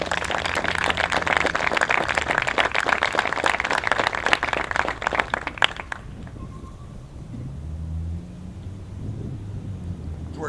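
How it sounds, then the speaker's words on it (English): Audience applause at a military change of command ceremony for the 303rd Ordnance Battalion (EOD), a loud sustained clapping crowd for about six seconds that cuts off abruptly, leaving low rumbling room noise. "Please join me in a round of applause for the officers,"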